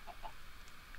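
Clucking of a chicken in the Minecraft Crazy Craft modded game, a couple of short clucks near the start with another brief call near the end, over a steady hiss of background noise.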